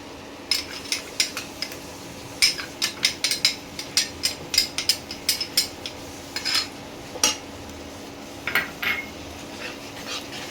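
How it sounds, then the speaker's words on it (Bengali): Mutton mince with garlic and ginger paste being stirred and scraped in a pan, a steady run of sharp metal utensil clinks and scrapes, with a faint dog barking now and then in the background. "এবারে ভালো করে একটু কষিয়ে নিচ্ছি।"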